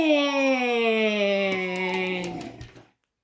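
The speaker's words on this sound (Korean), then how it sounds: "오, 사이렌 소리도 나네요" A toy fire truck siren wails once, its electronic tone sliding slowly downward before cutting off, close and clear with no talking.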